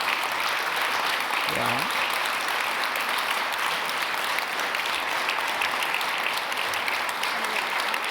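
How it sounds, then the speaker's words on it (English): Audience applauding a speaker on stage at a policy talk, steady dense clapping throughout with a brief voice near the start. "this round of applause was really yours"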